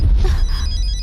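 A telephone rings unanswered in a Hindi-dubbed South Indian action film, a brief electronic ringtone with a thin high-pitched trill over a low background hum.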